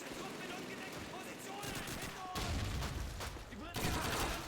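Dense, continuous gunfire from a trench gun shotgun in a Call of Duty game, layered with other weapon fire and battle noise. Heavy shots hit at about 2.4 and 3.8 seconds, and the whole passage stays loud.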